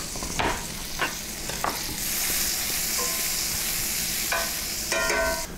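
Garlic sizzles in butter in a hot pan, a steady loud frying hiss with a few sharp crackles and utensil clinks, no talking.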